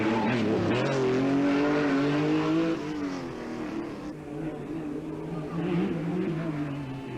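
A 1985 Peugeot 205 T16 Evolution rally car at the Corsica Rally, its engine loud and sustained at high revs, pitch rising and then easing as it drives hard on the stage.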